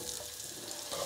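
A soft, continuous sizzle of onions frying in hot oil, steady and faint, with no voices.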